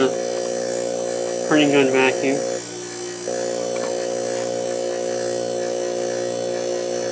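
A cheap homemade vacuum pump runs with a steady close electric buzz throughout, briefly drowned out by a short burst of talk over it.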